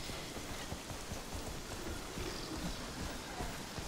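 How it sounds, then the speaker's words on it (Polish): Rain in the game Conan Exiles, falling through a roof: a steady dense patter of drops, close and continuous, with no voices. "cały czas mi deszcz pada przez dach"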